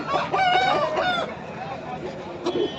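A rooster crows loudly and close by at a Sunday pet market, one long drawn-out call, followed by quieter background sounds and faint voices.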